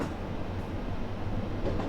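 Train running in the JR East Train Simulator game, a steady low rumble of wheels and motor with faint rhythmic clatter, continuous and even, no talk.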